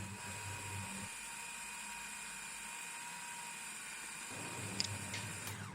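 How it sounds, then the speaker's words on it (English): A food processor grinds chicken cubes, onions, coriander leaves and bread pieces, a steady whirring motor hum running throughout at moderate level, with a slight change in pitch partway through. "Firstly, we're going to grind them into fine texture."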